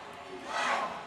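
An Australian crowd at the Dodgeball World Championships, a cloth-ball match against Great Britain, rises in a brief swelling roar of cheering, a dense wash of many voices that peaks and holds for about a second.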